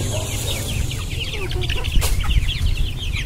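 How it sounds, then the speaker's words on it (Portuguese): Chickens cluck loudly and nearby while being fed coarse corn, a busy stream of overlapping clucks with a brief rustle partway through. "Acho que a galinha já foi pro ninho."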